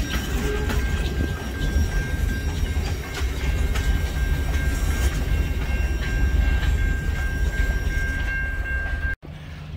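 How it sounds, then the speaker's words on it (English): Steady rumble of a high rail truck rolling by on a main line railway track in Kaukauna, Wisconsin, with a sustained whine and clicking wheels, loud and continuous, ending abruptly. "Just missed the high rail truck go by."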